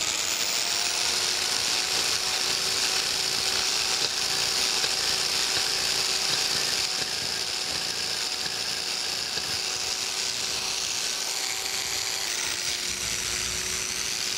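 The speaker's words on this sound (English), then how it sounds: "Got a lot of scraping to do." Continuous hand scraping on the cast-iron dovetails of a metal planer clapper box, a close, steady rasping hiss with a faint thin whine running underneath.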